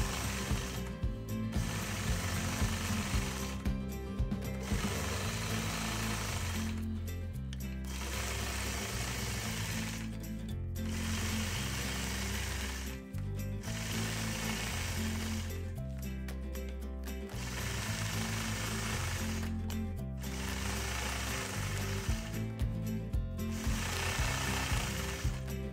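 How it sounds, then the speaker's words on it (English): Sewing machine quilting, stitching in the ditch around the outside of a nine-patch quilt block, running in steady rapid bursts separated by brief pauses, close and loud with no talking. "I'm going to start out my design by stitching in the ditch all the way around the outside"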